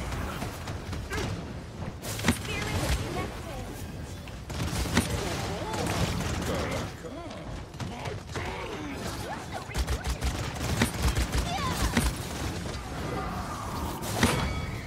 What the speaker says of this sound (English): Someone's shooting us.